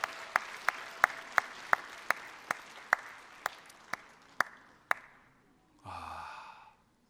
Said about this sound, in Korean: 아유, 박수 한번 보내주시죠, 박수.